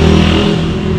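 A loud, close engine drones steadily in a town centre on New Year's Day in Las Terrenas, a continuous rumbling motor with no talk over it.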